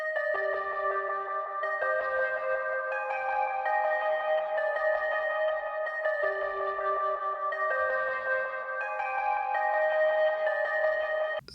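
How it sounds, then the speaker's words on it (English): A simple synth lead pattern in a post-punk style beat plays a bright, repeating melodic figure of stepped notes at an even pace, steady and upfront for about eleven seconds, with no talking. "I made this little synth pattern here."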